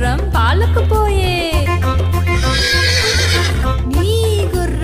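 A horse neighs in a Telugu children's rhyme, with a couple of rising and falling whinnies standing out over a loud, steady, bouncy musical backing with no talk.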